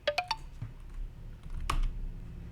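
Quick, close keystrokes tap on a computer keyboard while text is entered in a design app. A short cluster of crisp clicks is followed by a single sharper click against quiet room tone.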